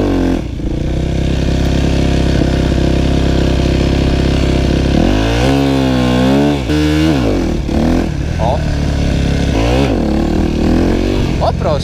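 A Yamaha WR250F motorcycle engine roars close by during wheelie practice, idling rough then revving hard in several rising and falling bursts, loud throughout.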